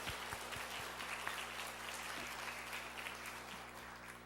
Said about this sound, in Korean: 다시 한번 더 큰 영광의 박수를 올려드립시다